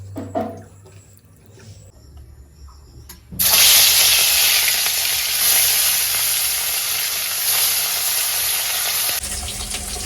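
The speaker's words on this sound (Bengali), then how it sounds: "এই যে এদিকে তিন পিস মাছ ভেজে নিচ্ছি" After a few quiet seconds, three pieces of fish belly hit hot oil and a loud, bright sizzle erupts and holds steady, easing off slightly near the end.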